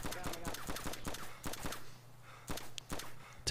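In DayZ, distant gunfire cracks out as scattered shots and short bursts in an irregular rhythm, moderately loud, with a faint low hum underneath.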